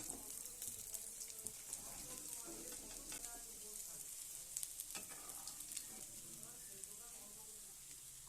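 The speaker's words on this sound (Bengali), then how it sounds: "ওই একই রকমভাবে বাকি মাছগুলোকেও আমি ভেজে নেব।" Parshe fish frying in hot oil sizzles steadily throughout, with light crackles and occasional utensil clinks, close and moderately loud; no one speaks.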